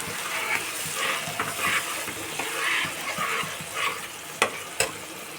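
Soaked mustard and Kashmiri chilli water hits a hot pan and sizzles in loud bursts and surges, ending with a couple of sharp clicks.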